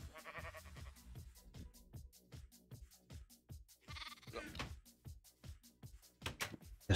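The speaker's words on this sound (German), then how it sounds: "Das kleine Schaf, das freut sich, wenn man den Weizen gibt." Sheep in the Minecraft video game bleat repeatedly and quietly over a steady ticking rhythm of regular clicks, with a couple of fuller bleats standing out.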